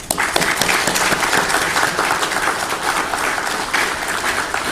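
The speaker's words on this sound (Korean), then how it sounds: "우리 축하로 크게 박수하겠습니다" Loud, dense applause from a church congregation at an ordination thanksgiving service for new elders, a continuous wash of clapping lasting several seconds.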